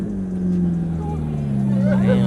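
A car engine drones low and steady at a car meet, its pitch climbing slightly as it revs, with voices chattering faintly nearby.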